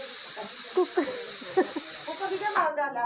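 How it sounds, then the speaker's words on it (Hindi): A pressure cooker whistle hisses steadily while langar food is cooked on a traditional wood-fired chulha, a loud continuous steam hiss that cuts off near the end, with voices talking underneath. "कुकर सीटी मार रहा है।"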